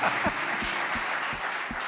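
A church congregation applauds together during a service, a steady wash of clapping close by with soft rhythmic low thumps running through it.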